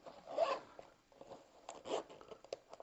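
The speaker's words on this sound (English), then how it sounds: "it's probably the way I've been unzipping it" The zipper on a Lidl Crivit bike frame bag is worked in two short, quiet rasping pulls separated by a pause, close to the microphone, with small scraping clicks and no talking.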